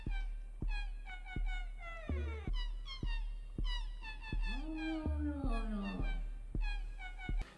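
Cats meowing in a prank clip, with repeated plaintive meows, one long drawn-out cry, layered over a steady, regularly spaced thumping beat.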